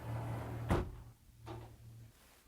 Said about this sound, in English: Let's lock the doors.